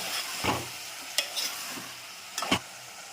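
Tomatoes going into a pan for a potato and chana dal curry set off a soft, continuous sizzle, broken by a few sharp clinks and scrapes of a spoon against the pan.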